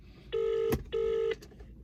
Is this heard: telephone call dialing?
yes